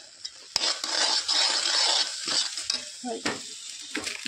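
Powdered milk mixture for barfi being stirred in a pan, with steady scraping and swishing strokes and a light sizzle throughout, punctuated by a few sharper clicks of the spoon against the pan.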